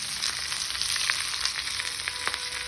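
Large onions frying in a pan for a mutton kulambu: a steady close sizzle with scattered crackles and soft stirring, and no talking.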